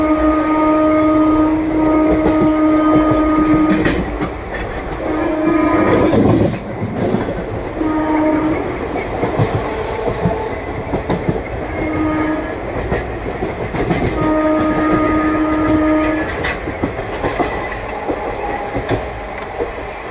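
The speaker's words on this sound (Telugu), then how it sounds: "మన ట్రైన్ వచ్చేసండి చెర్లపల్లి రైల్వే స్టేషన్ అయితే స్కిప్ చేస్తుందండి" Express train 17208 running through Cherlapalli station without stopping, a loud steady roar of carriages with repeated long horn blasts sounding near and clear over the rumble.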